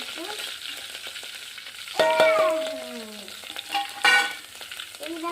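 Coriander and garlic frying in a little oil in a village kitchen: soft steady sizzle with a few sharper crackles and scraping stirs, moderately quiet and close, no talking.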